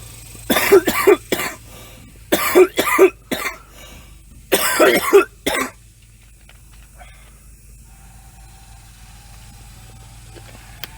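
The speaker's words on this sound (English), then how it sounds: "If I keep coughing like that" A person coughs in three rapid bursts of two or three harsh coughs each, loud and close, followed by several seconds of near silence.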